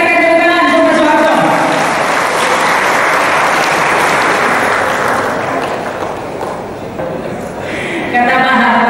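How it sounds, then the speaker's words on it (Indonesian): Audience applause at an Indonesian political gathering, a loud sustained burst of clapping that swells over a music bed, dips briefly near the end and then carries on. "Sekali lagi kita berikan tepuk tangan untuk Pak Soeharto."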